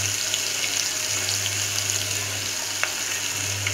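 Chopped onion and curry leaves frying in hot oil, a steady, fairly quiet sizzle with a constant low hum beneath and no talking.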